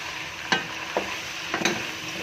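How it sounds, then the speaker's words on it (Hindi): Garlic ginger paste frying in a pan of browned onions for chicken masala, a steady soft sizzle with several quick scraping stirs at uneven intervals. "अब मैं इसमें शामिल करूँगा लहसुन अदरक का पेस्ट 2 टीस्पून। इसको इसमें मैं फ्राई करूँगा।"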